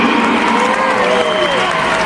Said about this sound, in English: Let's give God a round of applause, y'all.